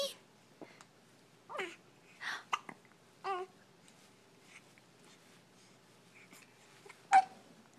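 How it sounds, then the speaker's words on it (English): A baby hiccuping, several short sharp hiccups spaced irregularly at close range, with a few soft vocal noises between them in an otherwise quiet room. "Oh, I got hiccups too."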